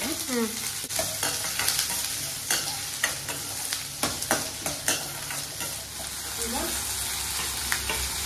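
Mutton chop ingredients fry in a pan with a continuous sizzle, broken by repeated scraping and stirring strokes of a utensil at a fairly even pace, heard close up.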